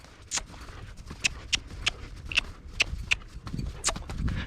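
Hooves clip-clop on a hard surface in an irregular walking rhythm, close by, with faint background noise between steps.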